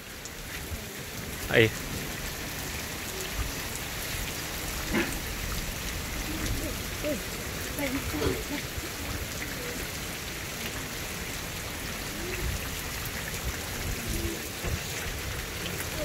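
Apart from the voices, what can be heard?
light rain falling on a mountain village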